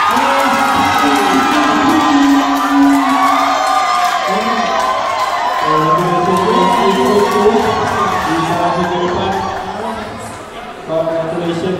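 Audience at a kids' dance competition cheering and shouting loudly, children's high voices and whoops mixed with crowd noise throughout, close and sustained, with an announcer's voice speaking over the din.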